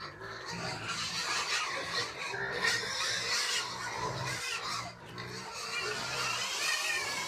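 A group of pigs oinks and squeals continuously at moderate volume, with overlapping grunts and higher squeals forming a busy farmyard din.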